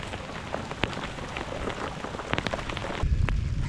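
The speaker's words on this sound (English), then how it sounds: "let's see if this rain is going to help me" Rain pattering steadily onto water on a wet fishing outing, a dense close hiss with scattered louder drops, ending in a brief burst of heavier low rumble.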